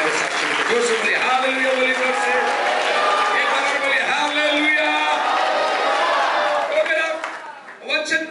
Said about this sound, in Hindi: विश्वास की ताली बजाकर आज रात को प्रभु को धन्यवाद देना